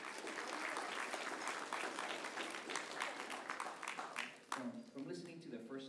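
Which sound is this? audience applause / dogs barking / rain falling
audience applause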